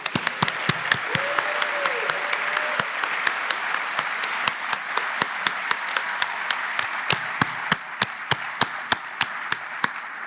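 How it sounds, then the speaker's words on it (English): Audience applause fills a hall at the 51st annual college scholarship event honoring Jack and Kathy Newman, a steady dense clapping wash with sharp individual claps standing out, continuing for about ten seconds. "join me in a round of applause"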